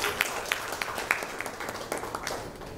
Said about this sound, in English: but we'll give them a round of applause anyway.